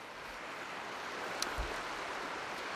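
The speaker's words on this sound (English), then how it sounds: "Does it sound any better next to the river where you can see the river?" River water recorded outdoors with a Rode VideoMic Pro with its high pass filter on, a steady broadband rushing hiss throughout with a faint low wind bump midway.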